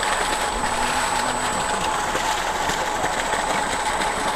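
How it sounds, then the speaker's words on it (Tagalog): A solar-powered water pump motor runs steadily in bright sun, a constant mechanical whir with a faint high whine, even and uninterrupted with no talking. "Ganun lang katahimik yung motor mismo."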